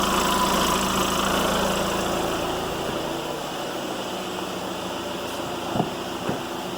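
Engine of a 2015 VW Jetta idling after a DSG transmission fluid change: a steady humming drone, loud at first and easing slightly, with a couple of brief clicks near the end and no talking.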